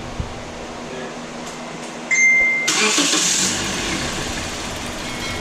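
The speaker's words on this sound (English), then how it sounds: "Ready to start the car." Scion xD car engine cranking and catching after a radiator cooling fan replacement, a short whirring start burst followed by a steady low idle, close by under the hood.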